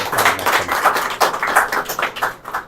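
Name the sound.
congregation applause at Mass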